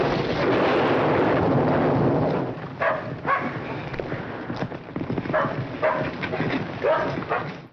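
Dogs bark several times amid a noisy outdoor scene in the 1949 film She Wore a Yellow Ribbon, a loud rumbling roar first, then scattered barks and commotion.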